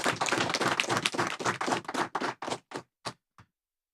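Audience at a national town hall applauds the Prime Minister and colleagues, dense clapping at first that thins into a few scattered final claps and then silence.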